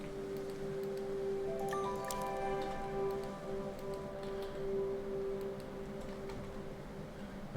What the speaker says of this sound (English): Press 1 to water a plant.